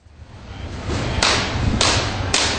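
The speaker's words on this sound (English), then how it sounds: "He uses his wand to provide sound, no horn or radio to carry, just banging to attract attention." A street magician bangs his wand to draw a crowd, producing three sharp loud cracks spaced about half a second apart over a rising rumbling background.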